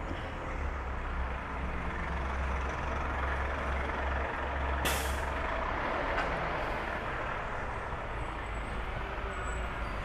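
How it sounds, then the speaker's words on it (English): A fire truck rumbles along a waterfront road on the Cairns Esplanade, its steady engine drone joined midway by a brief, sharp hiss of air brakes. "This is fire truck."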